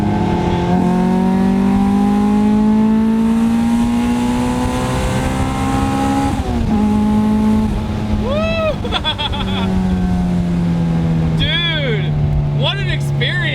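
A high-mileage Honda Del Sol F20B engine revs hard to 7,000 RPM through rising pulls, dropping briefly between gear changes, loud and close, with faint chirping tire-like squeals near the end.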